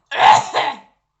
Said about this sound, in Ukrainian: ти покашляла